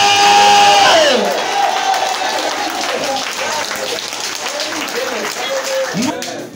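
A church congregation claps for Jesus at a prophecy service. Loud applause with cheering opens the stretch, then thins to scattered claps under raised voices and crowd noise.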